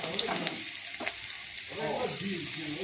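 Chopped garlic frying in hot mustard oil, a steady close sizzle with faint scraping stirs running under quiet murmured speech throughout.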